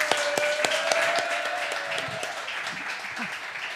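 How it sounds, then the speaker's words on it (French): Studio audience applause for a contestant on a French comedy game show, crisp individual claps near the start with a sustained tone, then the clapping thins and fades while faint voices remain. "et je vous demande de l'applaudir, nous accueillons René."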